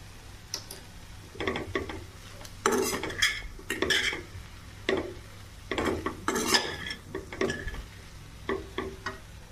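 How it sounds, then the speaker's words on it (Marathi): Pasta is sautéed in a pan while a utensil stirs it, scraping and clinking against the metal in irregular bursts over a faint background hiss, with no talk. "याला छान असं परतून घेऊया।"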